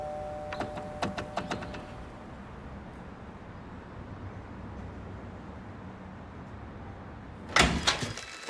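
A door opens indoors with a short burst of clattering clicks near the end, following a few earlier metallic taps over a steady low background hum; no one talks.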